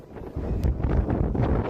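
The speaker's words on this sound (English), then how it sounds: "In a very windy, very windy atmosphere." Strong wind buffets a microphone outdoors at the OffKai Expo convention, a loud, steady, low rumbling roar with gusty swells and no clear voices.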